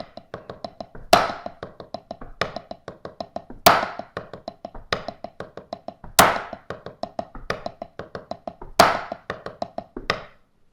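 A drum kit plays a steady groove: quick, even hi-hat taps run throughout, with a sharp, loud snare backbeat cracking roughly every two and a half seconds and light bass drum notes underneath, close and clear with no talking.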